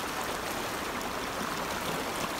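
Steady babbling stream water flowing continuously, an even close-up rushing and trickling wash with no voices.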